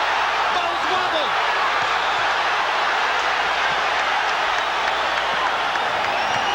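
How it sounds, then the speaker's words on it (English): A boxing arena crowd at a heavyweight bout roars steadily as a fighter lands a combination, a dense sustained wall of cheering and noise with a commentator's voice running over it. "Crowd lights up as Golota lands a combo."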